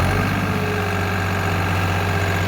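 A New Holland 3600-2 tractor with a rotavator attached runs steadily up close, its diesel engine holding a constant loud drone with vibration throughout and no pauses.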